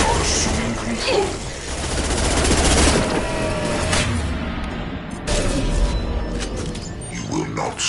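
Heavy sustained gunfire rattles through a shooter video game, dense bursts of automatic fire and impacts that stay loud throughout, with character voices calling out over the battle.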